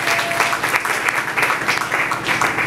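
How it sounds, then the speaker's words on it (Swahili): Sustained applause from a church congregation, a dense, steady patter of many hands clapping throughout with slight rhythmic swells and no talk. "Tumchapie Yesu makofi"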